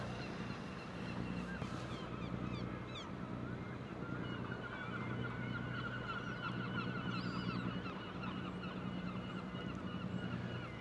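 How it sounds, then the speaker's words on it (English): Gulls call faintly and repeatedly in the distance over a steady wash of wind and low rumbling background noise in seaside Whitby, North Yorkshire. "I am liking the sounds of the gulls."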